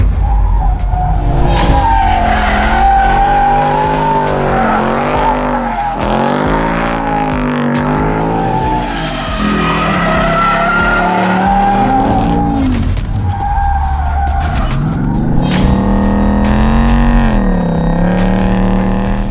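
A Ford Mustang Dark Horse revs hard and tires squeal through several corners at a track, engine pitch rising and falling loudly and continuously with no talking.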